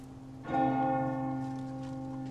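A church bell tolls once in Resident Evil 4, a sudden loud strike followed by a long ringing hum that slowly fades across the clip.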